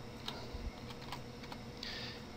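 A short name being typed on a computer keyboard: a handful of soft, irregular key clicks, close and quiet against a low steady room hum, with no talk.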